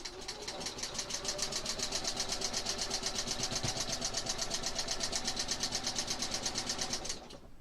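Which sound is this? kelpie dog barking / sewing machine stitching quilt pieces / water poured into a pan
sewing machine stitching quilt pieces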